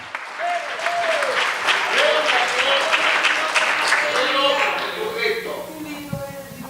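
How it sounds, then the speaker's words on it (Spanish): A church congregation claps steadily and loudly for several seconds while a preacher's voice rings out over the applause. "Dele fuerte el aplauso, que Él vive."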